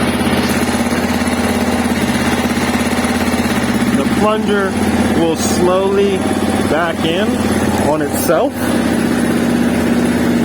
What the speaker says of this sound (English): as the bike is running and warming up, the vibrations of the engine